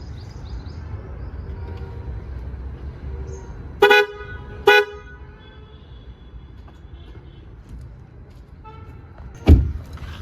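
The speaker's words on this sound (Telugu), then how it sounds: "అండ్ హారన్స్ ఎట్లా వస్తున్నాయని నేను చూపిస్తాను నేను మీకు" Modified horns on a Tata Punch give two short, loud honks close together with a third sharp blast toward the end, over a steady low engine and traffic rumble.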